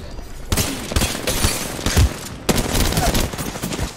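Rapid gunfire in Apex Legends, repeated loud bursts of automatic shots with brief pauses between volleys, close and dominant.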